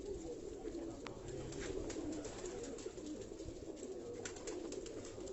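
Pigeons coo softly and repeatedly in a loft kept by a pigeon fancier, a low continuous murmur of several birds with faint background noise.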